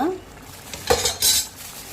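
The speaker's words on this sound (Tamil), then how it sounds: "மூடி போட்டுக்கலாம்" A lid clatters onto a metal pot of coconut rice cooking with chicken masala, mint and ghee; a couple of sharp clanks ring out close by, with faint kitchen rattles around them.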